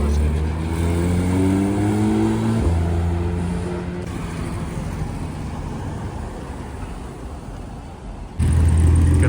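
A Ford GT sports car's engine in Monaco drones with a strong low harmonic tone, shifting pitch as it passes close and loud, then surges again near the end.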